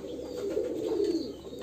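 Kagzi pigeon chicks on a pigeon farm give soft, continuous low cooing, fairly close and quiet, with no voices over it.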